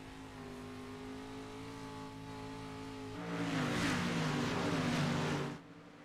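Dirt track race cars lapping at Eldora Speedway run single file: a steady droning engine hum swells into a louder rushing roar as a car passes close by, then fades quickly away.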